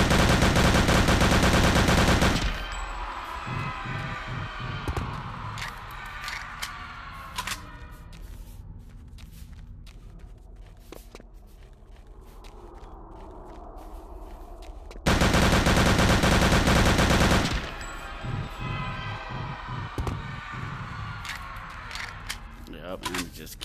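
Rapid automatic gunfire from a weapon in the video game Return to Castle Wolfenstein, two loud sustained bursts separated by quieter clattering game sounds and reverberant noise.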